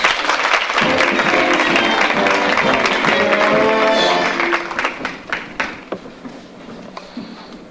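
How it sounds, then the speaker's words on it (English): An audience applauds loudly with dense clapping and some cheering voices, then the clapping thins to scattered claps and fades out. "a warm round of applause for Nick and Newton Cricket."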